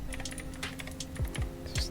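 Commands are typed on a computer keyboard while a MariaDB server is set up on a network operating system. There are quiet, quick irregular key taps, a few heavier presses, and a faint hum underneath.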